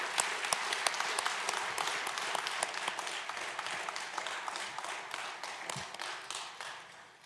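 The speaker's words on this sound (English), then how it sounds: "So if you could just give him a round of applause so he could hear you from up above." Applause from mourners at a funeral, a steady wash of many hands clapping that carries on throughout and fades slightly toward the end, with a few sharper claps standing out.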